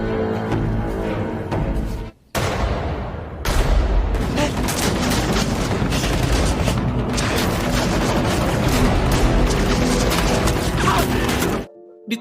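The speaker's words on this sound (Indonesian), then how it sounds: "mengalihkan perhatian dengan menembakkan senjatanya" Rapid bursts of gunfire and booms from an action scene, dense and loud throughout, with brief drops to near silence.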